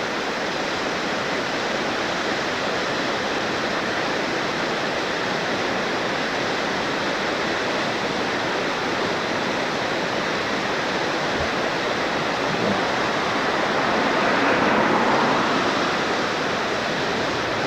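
A mountain creek in Glacier National Park pours and cascades over rocks, giving a steady, loud, broadband rush of water with no pauses and no voices.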